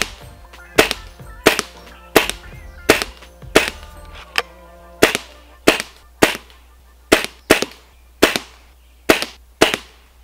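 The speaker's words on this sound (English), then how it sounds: "Here's a few test shots at 15 yards. This is 15 yards with 15 pellets with the Benjamin hollow point." Crosman Phantom air rifle firing Benjamin hollow point pellets at a 15-yard target: about fifteen sharp, evenly spaced cracks, each a crisp snap with a short ringing tail, loud and close with no talking.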